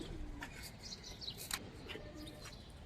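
Pigeons of silver-coloured and army breeds, offered in pairs for sale, coo softly in a quiet, low-level stretch of soft calls and light chirps with no talking.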